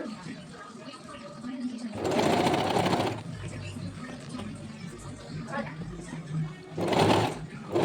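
Sewing machine stitching a frill onto a simple cotton frock, two loud close bursts of rapid motor whir, around the second and seventh seconds, separated by quieter handling sounds.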